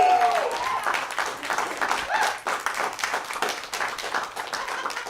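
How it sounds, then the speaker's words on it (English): Steady applause from a crowd, dense clapping that holds for several seconds with a few scattered voices mixed in. "let's give them another round of applause for a game well played"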